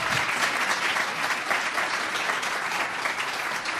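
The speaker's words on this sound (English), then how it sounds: "let's give a sustained round of applause to the rest of our panelists tonight" Sustained crowd applause for panelists at an evening conversation event, loud, dense and continuous clapping from a full audience with no voices over it.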